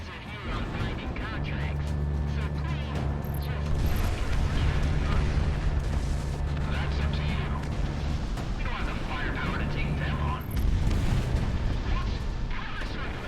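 Anti-aircraft gun turrets firing in the video game Project Wingman, a dense, continuous rumble of rapid blasts with a steady low engine drone underneath, loud and sustained throughout.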